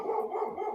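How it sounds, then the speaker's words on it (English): A single dog barks repeatedly in a room, several close, fairly loud barks in quick succession with no talk over them. "Whose dog is barking?"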